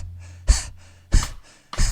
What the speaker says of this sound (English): You're gonna like that panting breath like we were just doing?